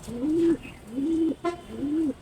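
Soft, low pigeon coos repeating about three times in a slow rhythm, close by and fairly quiet, with no talking.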